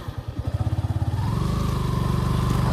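A motorcycle engine thumps in a steady pulsing rhythm, then rises into a continuous accelerating drone as the rider overtakes on the road, close and fairly loud.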